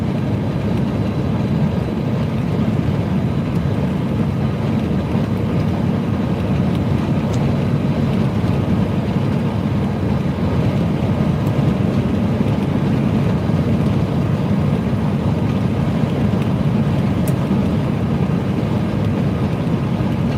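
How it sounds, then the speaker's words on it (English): Wind buffeting a moving truck on a highway, a loud, steady low roar of road and wind noise that fills the cab continuously without letting up, with no talking. "Bit of wind today."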